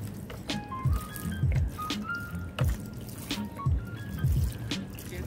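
Water drips and trickles from a freshly watered, newly repotted potted plant, with irregular close drops and small splashes repeating throughout.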